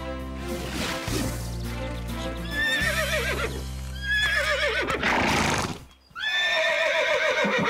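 A cartoon horse whinnies repeatedly in high, wavering neighs over a bed of music, with hoof clip-clops and a brief pause before another loud whinny near the end.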